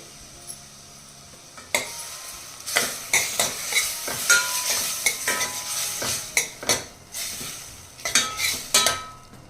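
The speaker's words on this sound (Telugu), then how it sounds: "చక్కగా ఫ్రై అయిపోయినాయి టమాటా ముక్కలు కూడా" Tomato pieces and fenugreek leaves frying in oil, sharp rhythmic scrapes and clinks of a spoon against the pan over a continuous sizzle, each stroke loud and close.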